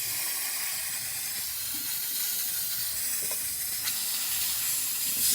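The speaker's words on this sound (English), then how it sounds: "Now we're gonna test the steamer." A La Pavoni lever espresso machine's steam wand, freshly tuned up and running hot, gives a steady, fairly soft broadband hiss that holds evenly throughout with no talk over it.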